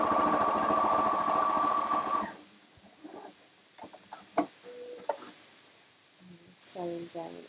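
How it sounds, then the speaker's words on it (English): Computerised Janome sewing machine stitching in a fast steady whirring burst for about two seconds, then stopping; quieter clicks and a short spoken phrase follow. "Sewing down all of those lines."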